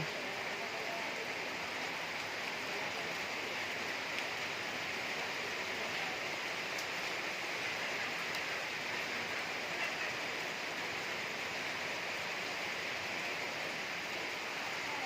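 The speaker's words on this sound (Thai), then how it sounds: "นี่ฝนก็ตกปล่อยๆนะคะ" Rain falls in a soft, even hiss that stays constant throughout, faint and continuous with no other clear sounds.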